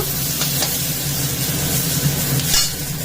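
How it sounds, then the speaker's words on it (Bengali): Potatoes and onions with green chili fry in a pan, a steady close sizzle running throughout with scraping stirs over it and no voices. "আলুটাকে একটু ভালো করে ভাজা ভাজা করে নেব"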